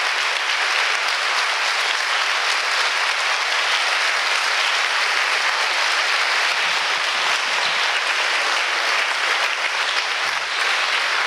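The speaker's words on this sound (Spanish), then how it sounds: "Un aplauso a Dios." A church congregation applauds at length in a parish in Táchira, Venezuela, a steady dense wash of many hands clapping that holds loud and even for the whole stretch.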